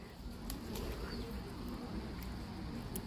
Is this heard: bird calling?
yes